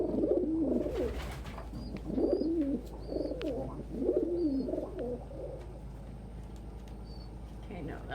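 Pet pigeons or doves near nesting boxes coo in repeated low, rolling phrases, with faint higher chirps over a steady background hum.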